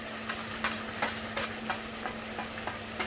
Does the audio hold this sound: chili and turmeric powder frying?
yes